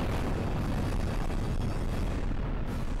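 Explosions roar in the video game Monster Attack, a dense, continuous rumbling wash of booms and blasts at steady loudness with no distinct gaps and no talking.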